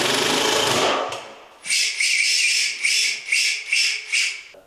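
A Hikoki 36V impact driver driving a fastener, used by a carpenter, with about six loud, close, rapid hammering bursts in quick succession after a brief run-up, and no talk.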